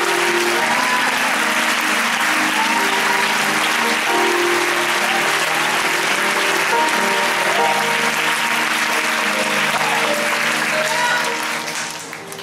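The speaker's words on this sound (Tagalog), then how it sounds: "10 segundong malakas na palakpak." A church congregation gives loud, sustained applause, a dense wall of clapping that holds for about twelve seconds before tapering off at the end.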